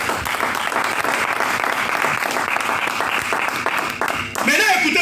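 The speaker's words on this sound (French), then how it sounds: "acclamons très fort pour la gloire de Dieu" Loud, dense applause from a church congregation, a crowd clapping steadily for about four seconds before it cuts off and a voice rises over the fading noise.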